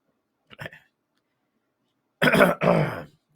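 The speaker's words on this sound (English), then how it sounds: "I gotta clear my throat." A brief gravelly noise, then after a short silence a loud, rough throat clearing in two harsh bursts, close up.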